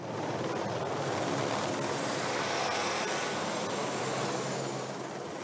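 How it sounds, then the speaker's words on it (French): Helicopter hovers over a château worksite while airlifting concrete in a special mixer bucket, a steady, distant broadband rotor and engine roar that stays even throughout with no voices. "c'est la première fois qu'on prend du béton avec l'hélicoptère"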